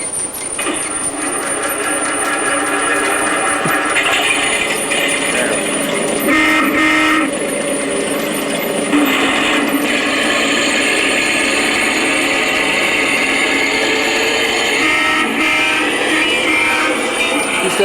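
Garden-scale model train, the Galloping Goose, running on an outdoor track with a continuous mechanical whir and rumble that holds steady for the whole stretch, loud and close, alongside background noise.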